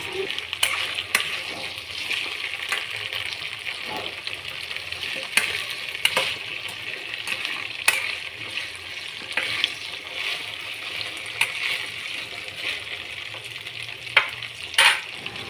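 Okra frying in a pan, a steady close sizzle broken by irregular scraping clicks and knocks of stirring throughout, with no talk.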